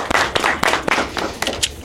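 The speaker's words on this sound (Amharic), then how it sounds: "ለራሳችሁ አንድ ጊዜ አጨብጭቡልኝ።" A small audience claps for themselves at a journal launch event, several bursts of hand claps rising and fading over a couple of seconds, fairly close and fairly loud with no talking.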